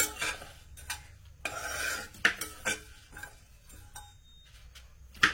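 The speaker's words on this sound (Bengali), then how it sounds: "যতক্ষণ না মশলাটা ভালো করে রোস্ট হচ্ছে ততক্ষণ নাড়তে হবে।" Spices being dry-roasted and stirred in a pan, with a spoon scraping and clinking against metal in irregular strokes, close and fairly quiet, with no sizzle prominent.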